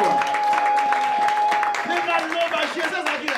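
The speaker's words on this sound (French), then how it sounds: "Applaudissons pour le roi des rois." A church congregation applauds in a dense, sustained wash of clapping that stays steady throughout. A tonal hum and a few voices sound underneath.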